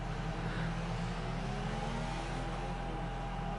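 An F2 race car in a sim racing game lapping the Singapore circuit gives off a steady, droning engine whine at moderate level, with no commentary over it.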